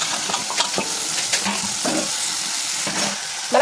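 Snake gourd pieces sizzle in hot oil with tomato while a spoon stirs and scrapes the pan, a close steady frying hiss broken by rhythmic stirring scrapes, no talking.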